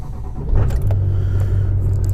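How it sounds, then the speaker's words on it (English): A pickup truck's engine cranks and catches about half a second in, then settles into a steady, loud, low idle rumble that continues to the end. "let's turn the truck on"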